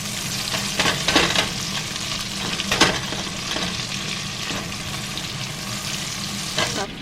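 Tomatoes fry in a pan, a steady sizzle with several scraping stirs at irregular moments, close and moderately loud, with no talking.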